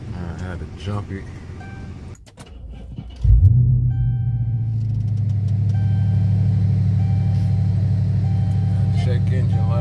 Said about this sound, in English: We're gonna start the car up.